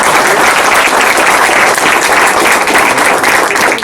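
A crowd applauds Walter Chávez at a presentation, a loud, dense wash of clapping that stays close and constant throughout with no voices on top.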